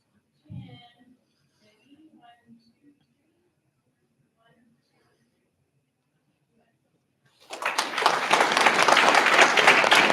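Audience applause fills a school board meeting room, starting abruptly partway through after a few quiet moments of faint speech and shuffling, then continuing as steady, dense clapping from a sizable crowd.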